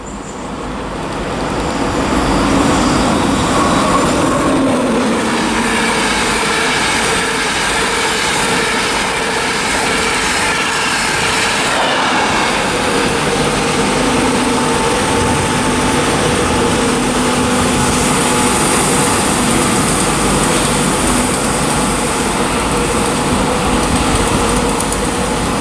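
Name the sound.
LNER train passing at Durham on East Coast Main Line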